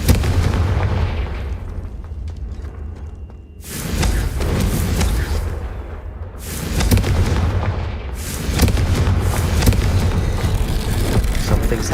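Confringo fire spells burst in the video game Hogwarts Legacy, with three loud explosive blasts spaced a few seconds apart, each followed by a crackling, rumbling tail over continuous combat noise.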